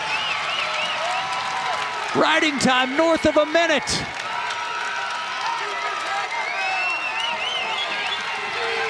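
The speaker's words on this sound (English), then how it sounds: "This crowd is going nuts." A crowd at a college wrestling dual meet roars and cheers loudly, a sustained swell of voices under a commentator talking over it throughout.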